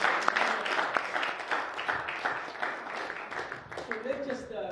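A church audience applauds in a burst of scattered clapping, moderately loud and fading within a few seconds, with a voice talking over the claps.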